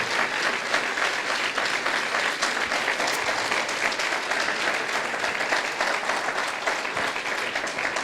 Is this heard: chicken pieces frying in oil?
no